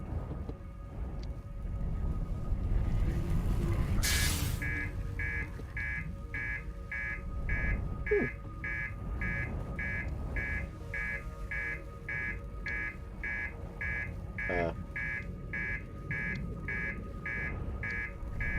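A spaceship's master alarm sounds in the game Outer Wilds while the reactor is damaged: a rapid, evenly spaced train of bright beeps repeating over a low rumbling hum, with a brief harsh burst just before it starts.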